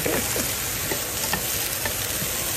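Food fries in a pan with a continuous close sizzle and irregular stirring scrapes and taps, with no voices.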